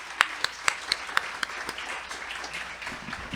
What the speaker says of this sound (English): Can we just give another round of applause really quick?